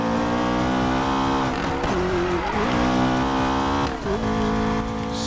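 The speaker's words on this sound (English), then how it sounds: "This car is just so freaking loud." A loud car engine roars in the racing game Need for Speed Payback, with a sustained high revving drone, tire squeal and engine pitch sweeps as it accelerates and shifts. No one talks.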